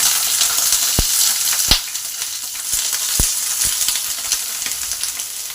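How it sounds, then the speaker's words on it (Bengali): Capsicum pieces fry in oil in a pan over low to medium heat, giving a close, continuous sizzle punctuated by a few sharp knocks from stirring. "এবার ক্যাপসিকামগুলো ভেজে নেব"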